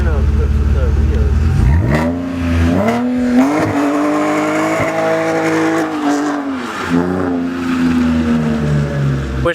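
A Nissan 350Z engine revs hard with rising and falling pitch, tires squealing loudly as the car spins its wheels in place in a burnout.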